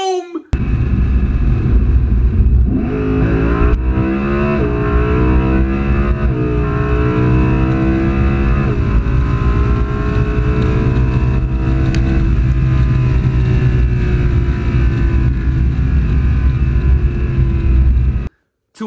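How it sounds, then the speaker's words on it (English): A Lamborghini at full throttle with the windows open roars from second gear toward 140 mph. The engine is loud and close, its pitch sweeping upward through a gear change and then holding a sustained howl until it cuts off. "I absolutely crushed this thing. Foot to the floor, jumped up into second gear."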